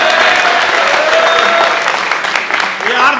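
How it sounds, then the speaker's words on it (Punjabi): Audience at a Punjabi stage drama breaks into lively applause in a crowded hall, with clapping mixed under loud voices and the hubbub of the crowd. "ਇਹਦੇ ਲਈ ਇੱਕ ਤਾੜੀਆਂ ਨੇ"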